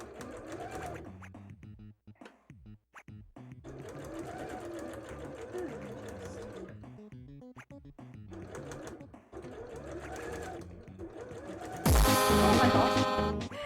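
A sewing machine stitches a cosplay petticoat in a steady close whir with a rhythmic needle chatter, running under a person talking and music, ending in a louder burst.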